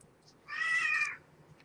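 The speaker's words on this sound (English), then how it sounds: "So, cat's meowing." A cat meows once indoors, a single clear, mid-length call, moderately loud against a quiet background.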